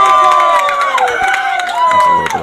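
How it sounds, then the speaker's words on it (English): A crowd of fans at a girls high school soccer match lets out a brief, loud sarcastic cheer with shouts and scattered clapping, rising and fading within a couple of seconds. "That's a little bit of a sarcastic cheer by the fans who didn't agree with one of the earlier calls."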